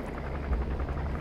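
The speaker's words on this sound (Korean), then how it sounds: "헬기 지나가면 가자" A helicopter in the video game Metal Gear Solid 5: The Phantom Pain passes by, heard as a low, pulsing rotor thump that swells slightly midway through the moment.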